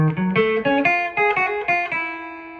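A clean electric guitar plays a quick country jazz lick of plucked notes climbing and shifting, then a final note rings out and fades.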